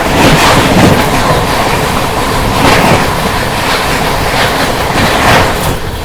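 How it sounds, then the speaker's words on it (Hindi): Ajmer Sealdah Superfast Express racing past a level crossing, a loud rushing roar with rhythmic clattering bursts as the coaches sweep by at high speed. "ये होता है भाई क्रॉसिंग का तांडव। Ajmer Sealdah superfast express."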